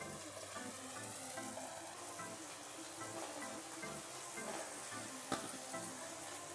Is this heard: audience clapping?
no